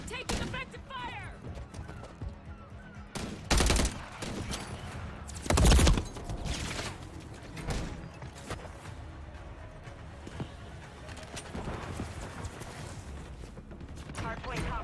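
Modern Warfare 3 gunfire crackles through a busy hardpoint match, with a couple of loud close bursts standing out over scattered distant shots and in-game radio voices.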